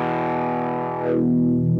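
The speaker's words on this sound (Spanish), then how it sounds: "Vamos luego a warm distortion." Electric guitar through a warm distortion preset in a software audio effect rack: a sustained, thick overdriven chord rings out, then shifts to a lower bending note with a brief pick scrape at the end, loud and alone.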